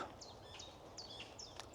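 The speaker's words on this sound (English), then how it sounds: "Can you hear them birds screaming at each other?" Faint birds chirp back and forth, a handful of quick, sharp calls repeating in an irregular rhythm over quiet outdoor background noise.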